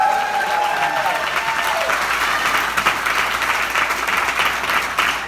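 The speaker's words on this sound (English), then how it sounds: "give a round of applause to everybody that was up here tonight." A comedy club audience at the Ice House breaks into sustained, loud applause, dense and steady clapping with some crowd noise throughout and no talk over it.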